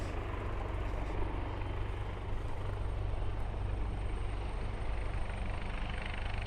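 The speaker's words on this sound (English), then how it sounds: "quite often you'll get the helicopters" A helicopter flies near a heliport on Tokyo Bay, a continuous low throbbing rotor drone that is faint and steady throughout with no talking.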